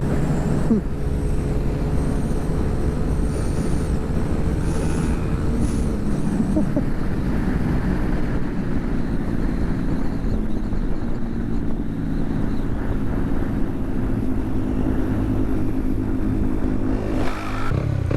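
A fire engine's big engine roars continuously at close range, its deep rumble rising and falling slightly as it is held at high revs to keep it from stalling.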